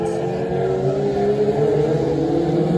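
Stock cars race into the final turn at Skegness, engines droning loud and steady with rising and falling pitch as they push through the corner, with a commentator's voice under the roar.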